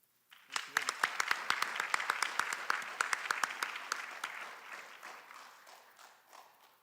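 Audience applause at a high school 9th grade academic awards ceremony, a dense burst of many hands clapping that starts abruptly, stays steady and fairly loud, then gradually thins and fades toward the end.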